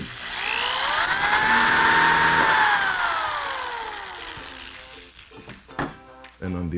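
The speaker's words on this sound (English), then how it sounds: "So I'm drilling some pilot holes here into this middle brace." A power drill boring pilot holes into a wooden middle brace of a DIY desk caddy, a loud rising whine that holds steady then spins down, followed by clunks and handling noises.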